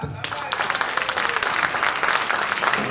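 A debate audience claps and cheers in a dense, lively burst that builds after a brief quieter start and holds steady, with voices mixed into the crowd noise.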